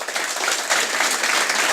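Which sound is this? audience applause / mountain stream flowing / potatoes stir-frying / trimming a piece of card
audience applause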